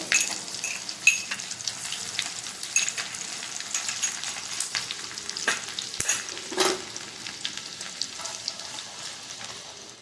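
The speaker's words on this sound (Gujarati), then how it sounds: "ત્યારબાદ તેમાં તમાલપત્ર અને સૂકા લાલ એડ કરી દઈશું ત્યારબાદ લસણ એડ કરવાનું છે" Bay leaf, dried red chilli and garlic frying in oil for Kathiyawadi khichdi, a continuous close crackling sizzle with scattered sharp pops and a couple of utensil clinks, no voices.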